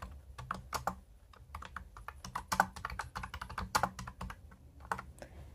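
Fast, irregular clicking of keys on a battery-powered computer keyboard connected to a tablet through a USB converter, close and clear with no talk.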